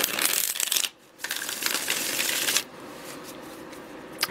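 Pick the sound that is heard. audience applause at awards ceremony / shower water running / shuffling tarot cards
shuffling tarot cards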